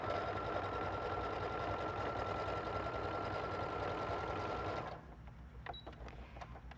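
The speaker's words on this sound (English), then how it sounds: "So I'm going to put this one in and just sew with a straight stitch." A sewing machine sewing a straight stitch on knit fabric runs at a steady, fast whirring rhythm, loud and close, then stops abruptly near the end, leaving a few faint clicks.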